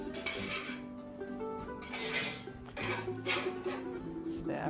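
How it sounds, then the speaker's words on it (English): Spoon scraping and clinking against a pan while scooping up cooked onions for a steak sandwich, continuous soft metallic scrapes and taps close by over a low kitchen hum. "I'm gonna scoop up the rest of these onions in here, so we can make our sandwich"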